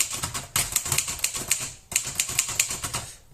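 Olympiette Special typewriter being typed on, sharp close key strikes in quick irregular bursts, with a louder carriage-like clack near the middle, no talking.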